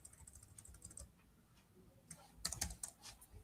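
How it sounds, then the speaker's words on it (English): Quiet clicking of a computer keyboard as a git command is typed, with irregular bursts of keystrokes, a short pause in the middle, then a quicker flurry of taps near the end, close and faint, with no talking. "let me write or type the command in here."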